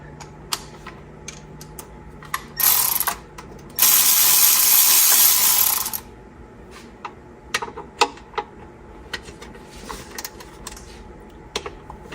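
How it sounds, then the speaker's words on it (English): Hand ratchet working bolts loose on a van engine's intake manifold, two bursts of rapid, loud clicking, then scattered single clicks and light metallic taps nearby. "let's start taking out the bolts from the intake manifold and pull that thing out"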